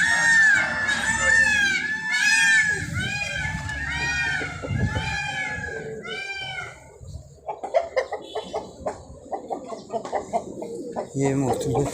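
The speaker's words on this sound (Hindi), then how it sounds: "कबूतर" Pigeons of various breeds coo at a zoo aviary, mixed with clucking fowl including Aseel roosters; dense overlapping bird calls fill the first half, then sparser rhythmic clucks and coos follow, with some human voices faintly in the background.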